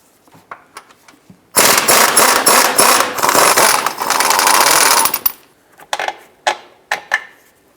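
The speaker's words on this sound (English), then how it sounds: "Go ahead and remove this upper bolt." Power tool removing the upper shock absorber bolt on a 2005-10 Jeep Grand Cherokee, a loud close whirring burst of about four seconds, set between scattered clicks and clanks of handling.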